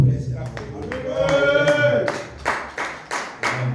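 Church congregation applauding during a sermon, a burst of sharp, scattered claps that start sparse and settle into a few loud, evenly spaced claps, mixed with a brief sung or spoken voice in the middle.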